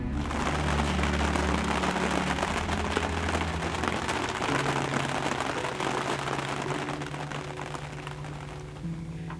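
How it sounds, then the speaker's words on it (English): Steady, dense rainfall patters continuously on surfaces, a loud broadband hiss with a low rumble underneath and no voices. "Here comes the rain right now."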